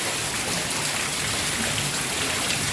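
Heavy monsoon downpour in Surat, a dense, even hiss of rain falling steadily and loudly without a break.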